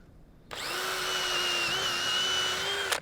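A power drill with a 3/16 bit spins up abruptly and whines steadily at high pitch for a few seconds, close by, drilling through sheets, then cuts off.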